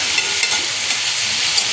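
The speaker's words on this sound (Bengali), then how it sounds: "কালো জিরা ফোড়ন দিয়ে দিয়েছি।" Black cumin seeds temper in hot oil for a small-fish chorchori, giving a steady, close, bright sizzle with faint crackles and no voices.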